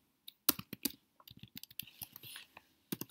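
Fingers type rapidly on a computer keyboard, a quick run of close, crisp key clicks with short pauses between bursts.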